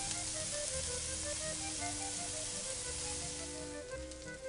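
Food sizzles steadily in a pan during Italian cooking with garlic, a continuous close hiss that holds even throughout with a faint tonal hum beneath.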